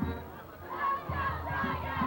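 Crowd of fans in the stands at a hot-day high school football game at Harris Field, Princeton High, a steady roar of cheering and shouting voices with rising swells, heard from a distance.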